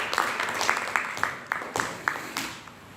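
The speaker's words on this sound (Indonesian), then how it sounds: "Oke, tepuk tangan." A classroom group gives a round of applause, heard as a quiet, fairly distant patter of claps with a few sharper individual claps standing out at a loose, irregular rhythm throughout.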